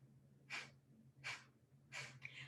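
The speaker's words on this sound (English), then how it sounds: "begin little puffs of exhale through the nose" Short forced nasal exhale puffs of pranayama breathwork, four sharp bursts spaced roughly evenly and close up, with a low steady hum underneath.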